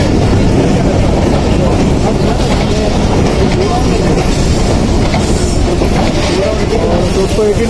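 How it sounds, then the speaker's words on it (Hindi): The 113UP Ghouri Express, pulled by a powerful locomotive, arrives at Faisalabad railway station with a loud, continuous rumble, steady wheel clatter and faint metallic squeals close by. "3:35 पर 113 पूरी एक्सप्रेस का अराइवल हो चुका है"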